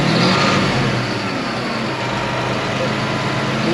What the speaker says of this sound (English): just a quick throttle snap of the engine RPMs